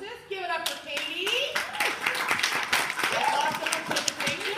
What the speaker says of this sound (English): we owe a huge round of applause to our naughty hostess